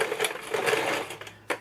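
A sewing machine running a stretch stitch on stretch knit fabric while enlarging a tight shirt, a close, rapid mechanical whirring burst that slows and stops, then a brief restart.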